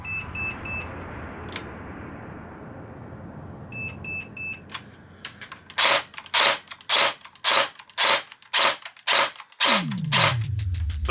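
A G&G L85 ETU airsoft rifle fires a rapid series of sharp, close mechanical cracks after a few electronic beeps from the gun's programmable system, ending with a brief motor whir.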